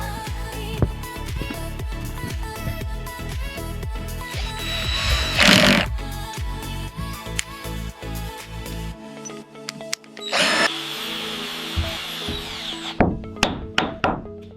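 A power drill whirs and winds in bursts while building a wooden door frame, mixed with wooden knocks and thuds, then a few sharp taps close by.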